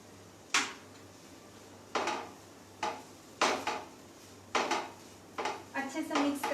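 Metal spoon scraping and knocking in a pan while potato samosa stuffing with fresh coriander is stirred, about half a dozen separate clattering strokes close by against a quiet background.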